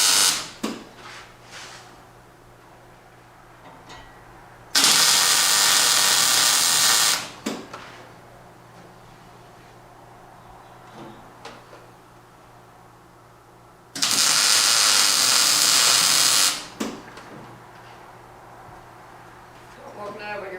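Welding on a Kubota tractor, two loud sustained bursts of dense hissing crackle, each a couple of seconds long and close by, with a person talking in the gaps between them.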